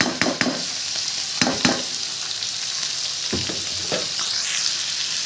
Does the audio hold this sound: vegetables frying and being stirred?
yes